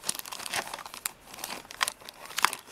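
Packaging around a newly found Raspberry Pi crinkles and crackles in close, irregular bursts, with sharper crunchy peaks scattered through the handling.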